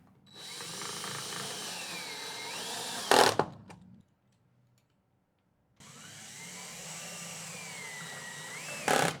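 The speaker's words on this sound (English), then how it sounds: "drilling in 1 number 8 by 5/8 Robertson panhead screw into the front frame rail" A power drill drives a number 8 by 5/8 Robertson panhead screw into the front rail of a horizontal Murphy bed frame. It whirs in two close, sustained bursts, each ending in a sharp tightening spike, with a silent pause between them.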